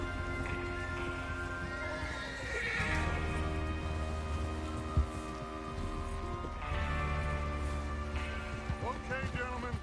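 Horses whinny and neigh in a Red Dead Redemption 2 game scene, with clip-clopping hooves and a faint mechanical ratcheting sound, all under steady ambient game noise.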